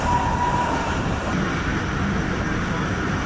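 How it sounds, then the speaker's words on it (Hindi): Shalimar Express train pulling into Rahimyar Khan railway station to stop, a steady loud rumble of rolling cars with a faint whine, continuous throughout. "Shalimar express Rahimiya Khan railway station पर पहुँच रही है स्टॉप करने के लिए"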